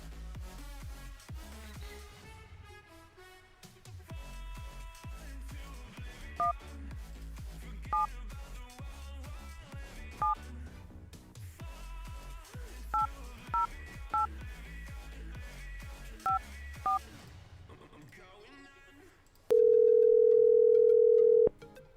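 A telephone call being dialed, with a run of DTMF keypad tones beeping over background music in uneven bursts, then a loud, sustained dial or ringing tone near the end.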